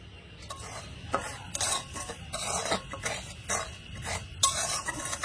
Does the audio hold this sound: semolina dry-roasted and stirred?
yes